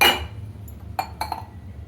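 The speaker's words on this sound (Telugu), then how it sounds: "మూత పెట్టేసేయాలి" A lid set onto a cooking pot of mango pieces and greens, giving a few sharp metallic clinks and clatters close by in a quiet kitchen, with no voices.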